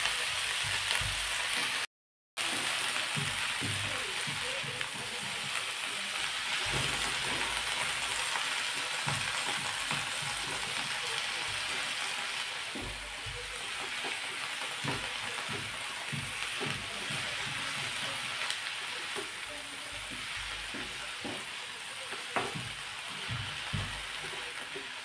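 Tandulja amaranth greens cook in a pan with a steady close sizzle and soft frying crackle. Occasional stirring scrapes sound over the hiss, and no voices are heard.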